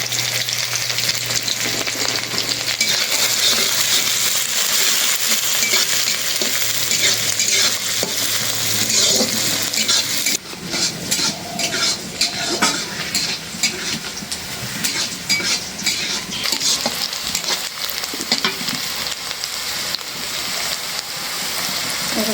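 Onions and green chillies hitting hot oil after dried red chillies, a loud continuous sizzle that settles into a busier crackling fry with stirring scrapes, close by and with no voices.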